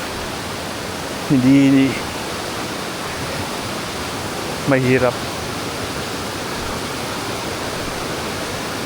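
Water in a river under a bridge rushes in a steady, loud broadband roar that fills the whole scene, while a voice speaks briefly twice over the flow.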